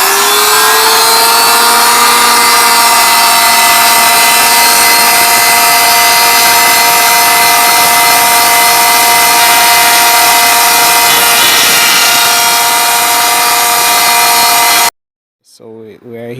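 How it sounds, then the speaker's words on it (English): A power tool bit cuts notches in wooden top bars for beehive frames, a loud, steady high-pitched whine running close for about fifteen seconds before cutting off abruptly, followed by a brief quiet fragment. "Start up now and cut the notches."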